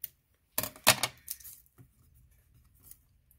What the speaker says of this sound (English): we're just going to use scissors to cut that part.